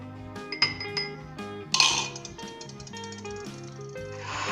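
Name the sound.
spoon clinking in a glass while mixing ginger tea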